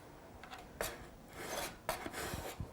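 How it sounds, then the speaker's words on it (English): A scraper drags across buttercream icing on a wedding cake, two or three short rasping strokes separated by pauses, close and quiet. "Sometimes right around the corners are a little bit tricky when you're scraping."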